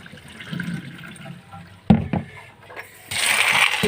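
Rice being washed by hand in a bowl of water, with soft sloshing and swirling, a couple of sharp knocks against the container midway, then a louder, steady rush of water toward the end.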